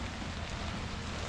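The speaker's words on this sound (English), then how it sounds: "As you can hear, it started raining on me" Steady rain falls outdoors during a bow season hunting trip, a dense continuous hiss of drops with no voices, even and moderately close throughout.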